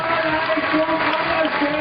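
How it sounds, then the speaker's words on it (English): Spectators roar and cheer at a women's bouldering World Cup final in Innsbruck as a climber beats the clock, a steady broad crowd wash with applause throughout. "You can hear the roar."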